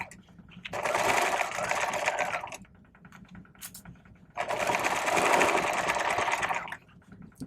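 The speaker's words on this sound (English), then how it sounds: "this is the way I pinned it, so this is the way I'm sewing it" A sewing machine stitches the lining of a vest bag in two sustained, rapid whirring bursts separated by a quiet pause with faint handling clicks, heard up close without speech.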